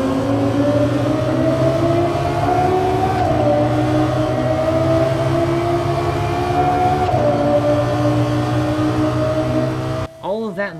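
A Lexus LFA's high-revving engine holds a sustained, loud, harmonically rich wail with slight pitch shifts, ending in quick rising and falling blips near the close.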